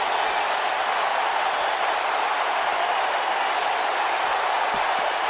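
Steady, dense crowd roar from a WWE 2K19 arena while Sasha Banks performs, a continuous wash of cheering and applause holding at an even loud level with no voices on top.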